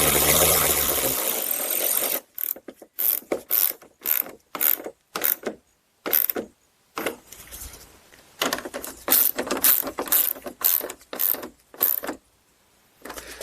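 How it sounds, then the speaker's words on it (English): Ratchet wrench clicking in quick bursts while tightening bolts on a plastic front bumper bracket of a Chrysler Town & Country; after a loud broadband start, short ratcheting runs repeat with brief pauses, close up and alone. "Then we'll tighten them up the rest of the way here."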